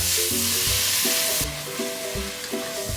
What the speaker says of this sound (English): in goes nearly 2 to 3 leeks that have been finely shredded up. And you want this to burnish and brown